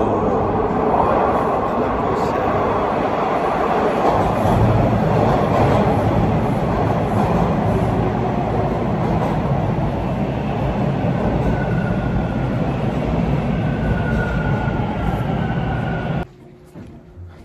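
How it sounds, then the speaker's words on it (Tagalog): A train rumbles loudly and steadily as it pulls into a station in Toronto during a snowstorm, a broad roar with wheel noise that cuts off abruptly near the end. "Ayun na mga kapitbahay, ang tren ko."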